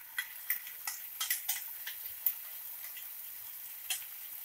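Onion frying in a pan with ginger, garlic, cinnamon-clove and green chilli paste for a peas and potato kurma, giving a soft steady sizzle broken by light crackles and pops throughout.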